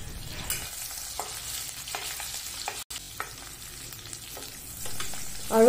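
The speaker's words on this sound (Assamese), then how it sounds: "কাটি ৰখা পিয়াজটো মই অকমান ভাজি লম ইয়াতে" Chopped onion and panch phoron fry in leftover fish-frying oil for a rohu fish curry with spinach, giving a close, steady sizzle broken by repeated scraping stirs and a loud burst near the end.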